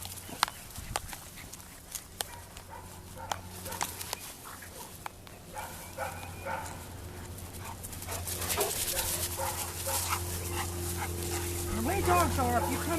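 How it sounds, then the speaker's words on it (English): Dogs, including a Chihuahua, bark in short bursts, whimper and pant close by during e-collar pager recall training, while people talk and laugh over the scuffling. "Frisbee's going to decide to beat up the Chihuahua."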